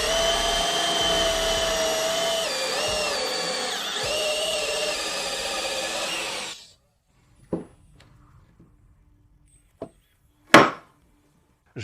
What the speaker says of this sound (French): Vous savez ce que je déteste dans une scie cloche, c'est que, premièrement, vous tous, elle va probablement être chaude.